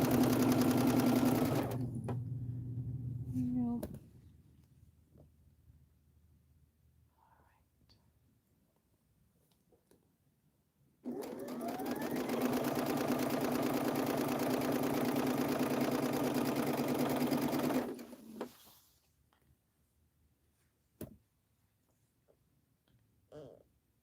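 Domestic sewing machine chain piecing quilt fabric, running in two sustained bursts of steady, fairly loud stitching with a quiet pause between, ending with a few faint clicks.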